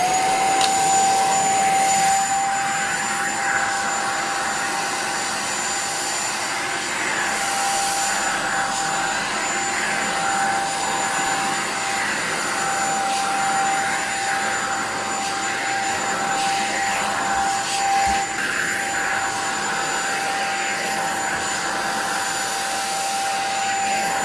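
A Shark Apex Uplight stick vacuum cleaner with built-in hose runs continuously, a loud close motor whine with a steady high tone and airy rush, no talking.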